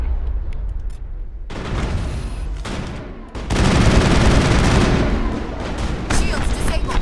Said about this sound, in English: Why am I using my pistol?